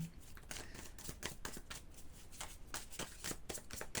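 Tarot cards shuffled close up in a quiet room, a run of quick crisp riffling and flicking bursts in a steady rhythm.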